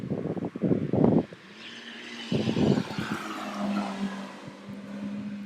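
Sports car passing nearby with two loud engine roars close together, then a fading whine as it pulls away and a lingering lower hum, outdoors.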